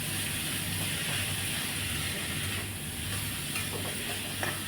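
Grated amla sautéing in a pan, a steady broad sizzle with rustling stirs, close and continuous without pause.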